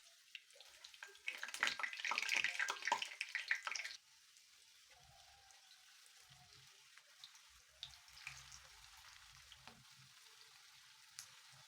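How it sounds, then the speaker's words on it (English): Soya mince vegetable kebabs fry in oil, a crackling sizzle that runs loud for a few seconds, then drops to a faint, quiet bubbling with occasional small pops. "fry them until they are golden brown and fluffy"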